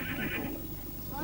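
A horse neighs in a short, loud whinny of about a second, set among a busy background where a voice is also present; the horse belongs to Mongolian riders skilled in horsemanship.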